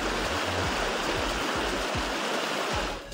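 A river at Barangay Landan in Polomolok, South Cotabato, surrounded by bamboo and trees, rushes with a steady, loud broadband roar of flowing water, close and continuous, with low thumps from wind or handling.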